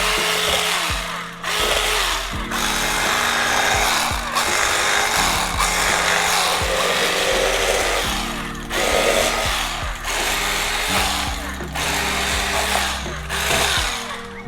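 Electric fillet knife slicing along a sheepshead fish, a steady close motor whine with buzzing harmonics that rises and dips in strokes, briefly stopping between passes.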